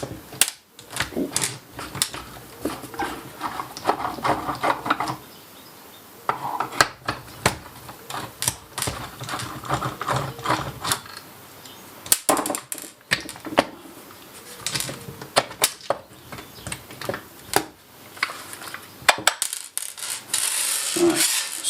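Screws are taken out of an old cordless drill's plastic casing, giving a close run of small clicks, rattles and scrapes in irregular bursts, with short gaps and no speech.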